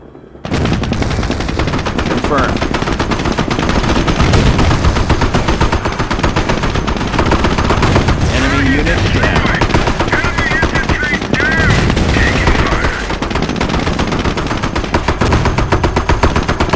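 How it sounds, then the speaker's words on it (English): Battle gunfire in Company of Heroes during the Normandy invasion near Montebourg: dense, continuous machine-gun bursts and rifle shots crackle loudly for the whole stretch, with heavier thuds and brief shouted voices mixed under the barrage. "Guns are pounding us to hell here!"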